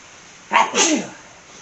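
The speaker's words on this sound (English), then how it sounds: "I'm going to sneeze." A single sneeze, close and loud, with a sharp intake followed by a forceful burst, then quiet.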